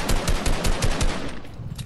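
Rapid, steady automatic rifle fire in a video game, loud and close, with evenly spaced shots running continuously for under two seconds and no voices.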